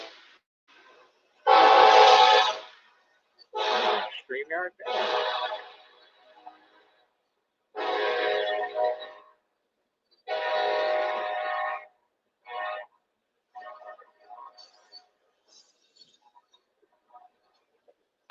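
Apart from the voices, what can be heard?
passing train with horn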